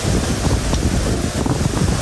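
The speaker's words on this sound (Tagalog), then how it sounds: "Grabe po kalakas ng hangin." Strong cold wind blasts past a seaside hut, a loud continuous roar buffeting the microphone with gusty low rumbles and no talk.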